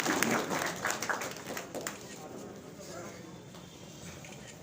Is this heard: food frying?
no